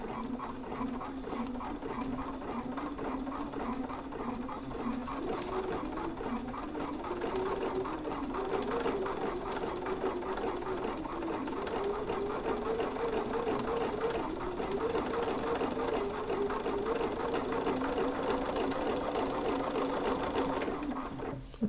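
A sewing machine stitches in the ditch on a 1950s vintage-style coat, running in a steady continuous whir that holds through the whole stretch, close and fairly loud, with no talking.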